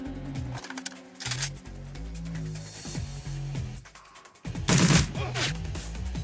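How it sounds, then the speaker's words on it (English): Gunfire from the Shadowrun Returns video game: sharp bursts of shots crack out over a soft game music bed, with a louder volley near the end. "Oh, we missed one of the shots."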